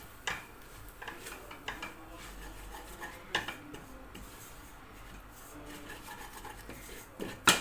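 Soup ingredients for a Karaman-style zucchini soup are sautéed in a pot, with irregular spoon scrapes, clinks and knocks against the metal over a low frying hiss, close and unhurried.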